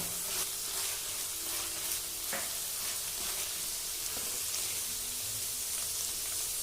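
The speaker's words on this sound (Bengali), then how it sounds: "গ্যাসটাকে লো ফ্লেমে রেখে আদা জিরে বাটাটা 1 মিনিট মতো কষিয়ে নেব" Ginger and cumin paste sizzling gently in a pan on low flame, a steady soft crackle and hiss with occasional small pops, close and continuous throughout.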